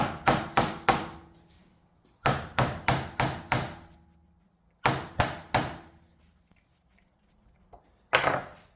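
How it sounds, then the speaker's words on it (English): Sharp metallic hammer strikes on a punch, driving a cleat out of salvaged flooring, in quick bursts of three to five blows separated by short pauses, ringing close and loud. "you just take your punch and your old hammer, line it up,"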